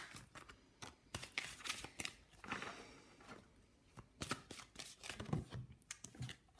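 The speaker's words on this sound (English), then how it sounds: "I'm going to pull from the Witch's Wisdom Oracle cards as well" Witch's Wisdom Oracle cards being shuffled and pulled during a tarot-style reading, a quiet irregular run of crisp card snaps, slides and riffles in close, bursty patches without speech.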